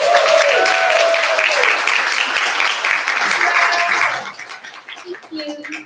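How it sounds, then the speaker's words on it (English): Audience at a book launch party gives a warm round of applause as the author is introduced, steady dense clapping for about four seconds that fades into scattered claps and room noise. "please give a warm round of applause for Katherine Grant"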